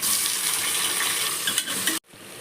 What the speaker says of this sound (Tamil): இஞ்சி பூண்டு பேஸ்ட்டு, வெங்காயமும் நான் போட்டு வதக்கிட்டுருக்கேன்.